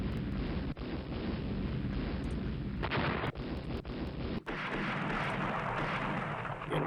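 Naval guns from the warship battle game Rule the Waves, 12-inch and 11-inch battleship guns firing, with a steady roar of gunfire and several sharp loud booms cutting through a continuous rumbling din.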